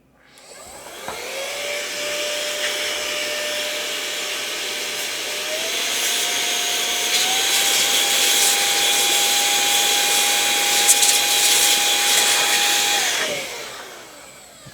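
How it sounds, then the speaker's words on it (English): An electric air blower blasts out a custom computer GPU cooler for an RTX A2000 12GB, a loud continuous whine that spins up, holds and rises in pitch, then cuts off. "where's my blower?"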